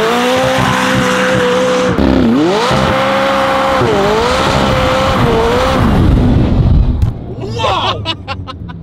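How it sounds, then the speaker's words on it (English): McLaren supercar doing a rolling burnout, loud engine roar with revs rising and dipping over sustained tire squeal, close by, ending in sharp pops and crackles, with voices heard briefly. "Once I figured out that it had this rolling burnout mode, I've done that a lot, and a lot of donuts."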